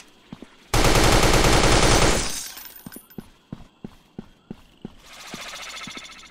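Blaster fire in the video game Blood Feed begins with a loud, dense automatic burst lasting over a second. A string of sharp single shots follows at an even pace, and then a softer hissing wash.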